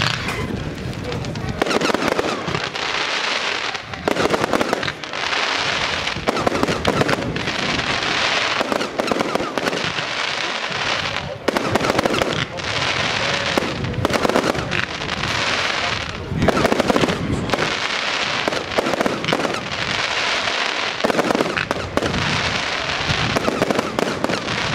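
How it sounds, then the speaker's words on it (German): A 90-shot V-shape coconut firework cake with dragon egg effects fires at a pyrotechnics show, a long run of loud, rapid bursts and crackling in repeated volleys with brief gaps, while a voice talks over it. "Nächst 90 Schuss V-Shape Coconut Pistio mit Dragon Egg."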